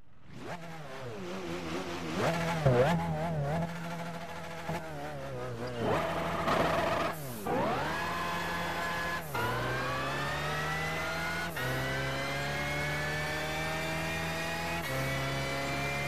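A BMW McLaren F1 GTR race car from 1997 accelerating hard in Gran Turismo 5, its engine note climbing through several gear changes with brief dips between shifts, then holding a loud, steady high-revving drone.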